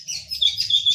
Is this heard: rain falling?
no